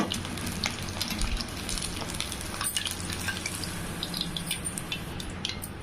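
Mushrooms fry in hot oil for a roadside-style kalan masala, a dense, steady sizzle with crackles and spatters running throughout, close and loud with no talking.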